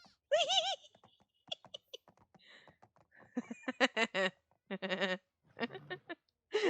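A horse in The Sims 4 gives a string of bright, wavering whinny-like calls, several short bursts spread over a few seconds, close and moderately loud with quiet gaps between them.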